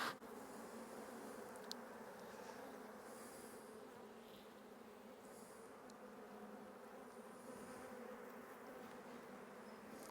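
Honeybees in a swarmed production hive drone in a steady, dense buzz that holds close and even from start to finish, with no pauses.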